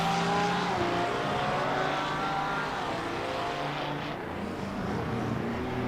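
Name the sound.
GT3 race cars in a sim racing video game, Laguna Seca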